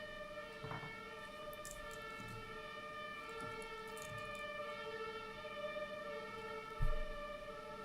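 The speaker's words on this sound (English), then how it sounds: "I'll wait till the ambulance is gone." An ambulance siren wails steadily in the background for the whole stretch, with a short low thump near the end and no talking.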